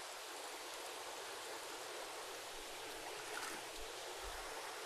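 Water full of duckweed pours into a gutter as a steady, soft, wash of splashing with a few low thuds near the end.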